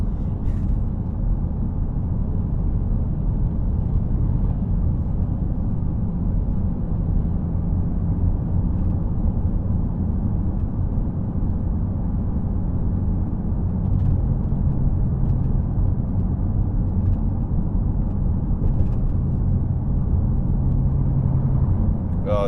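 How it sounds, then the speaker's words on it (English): Dodge SRT with its muffler still fitted, a steady low exhaust rumble and road drone heard from inside while driving, continuous and fairly loud throughout. "Sorry if you hear that noise in the back. I have a muffler back there."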